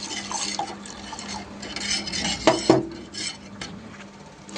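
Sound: stirring milk with custard powder in a pot

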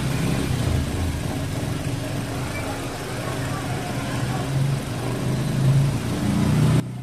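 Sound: car engine idling with misfire

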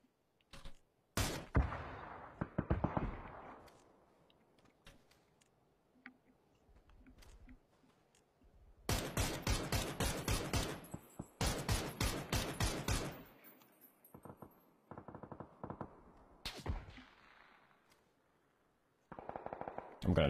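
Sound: gunfire from a video game gun

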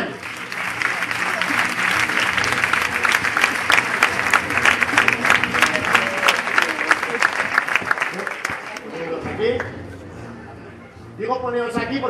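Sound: audience applause at a comedy show

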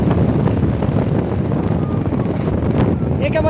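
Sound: stormy wind and rough sea

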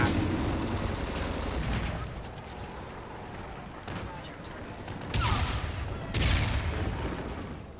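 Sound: turret gunfire in a video game

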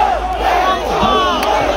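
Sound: concert crowd shouting lyrics in unison

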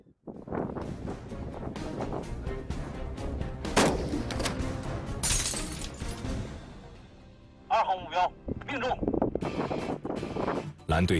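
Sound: sniper rifle shots at targets

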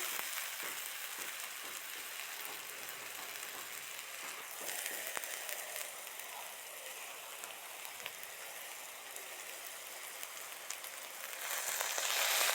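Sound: mutton being sautéed in a pan for curry

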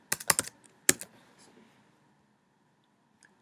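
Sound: typing on a computer keyboard

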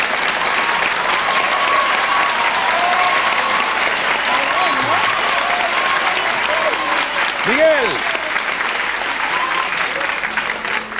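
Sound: studio audience applauding

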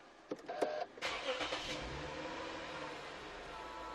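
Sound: 2011 imported car engine starting with push-button start

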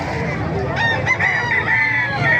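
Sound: chickens and roosters crowing at a poultry market

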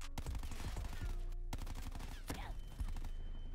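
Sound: concussion or flashbang grenades in video game Black Ops 4

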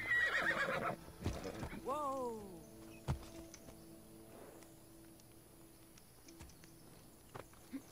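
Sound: horse neighing in Assassin's Creed Odyssey video game

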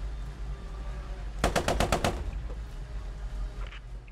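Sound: machine gun fire in the video game Post Scriptum

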